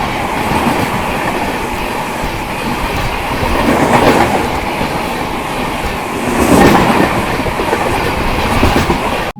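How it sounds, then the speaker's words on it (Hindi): Dhanbad Alleppey Express, train number 13351, passes close by at Tenali Junction, a steady loud rumble of rolling wagons with rhythmic clickety-clack and swells of wheel noise, heard alone without voices. "सामने से आ रही है ट्रेन नंबर 13351, यानी कि झारखंड धनबाद को केरल के एलापुझा से कनेक्ट करने वाली धनबाद एलेपी एक्सप्रेस।"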